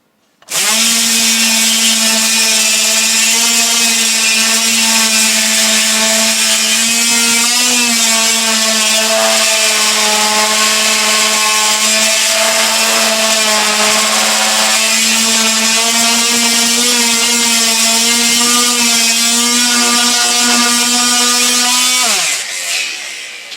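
A power sander works on scrap wood for a towel rack, running with a loud, steady, continuous whine for over twenty seconds before winding down.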